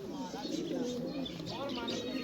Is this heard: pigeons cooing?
yes